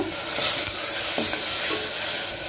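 Ripe tomatoes sauté in a pan for a southern-style mutton curry, giving a dense, even sizzle with a few soft stirring scrapes and no talking.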